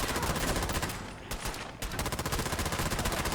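Rapid rifle fire aimed at raiders in Fallout 4 rattles out in dense bursts of sharp, loud shots. A brief lull comes midway, then the rapid firing starts again.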